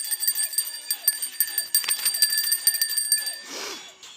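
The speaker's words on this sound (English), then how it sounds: "Mother Makeup came sashaying in with a bell." A bell rings in quick repeated jingles, bright and fairly close, against a musical backing, fading out near the end.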